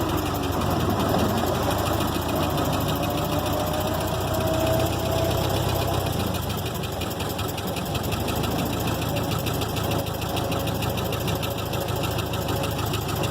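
A Ford Model T engine running in low gear, a steady close rattling chug with a fast even mechanical beat and a constant loud drone throughout.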